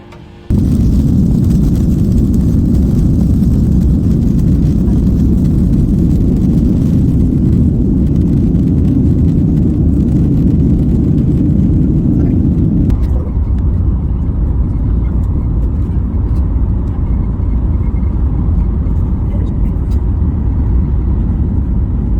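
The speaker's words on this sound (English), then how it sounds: "The flight will be taking off shortly." A passenger airplane taking off on a flight to Dubai, heard from inside the cabin as a loud, steady engine roar and rumble that holds for most of the clip, then drops and settles into a lower drone.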